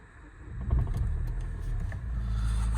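A 2013 Nissan Juke 1.5 dCi diesel engine cranks and catches, rising into a low, steady rumbling idle that grows slightly louder toward the end, heard close with no talk.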